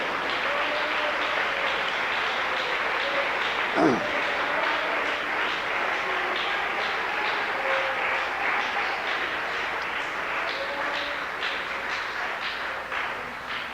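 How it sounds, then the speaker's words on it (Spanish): A church congregation applauds during a sermon, a steady wash of many hands clapping across the room at even loudness, with a faint voice and a brief thump partway through. "Dele un aplauso al Señor Jesucristo."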